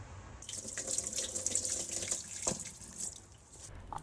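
Garlic being washed in a sink, with running tap water splashing and trickling, a brief clatter midway and the flow easing off near the end.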